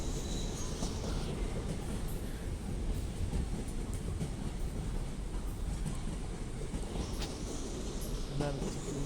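An LNER Class 801 train passes at Doncaster station, giving a continuous rolling rumble with faint rail clatter, moderately distant, and no talking over it.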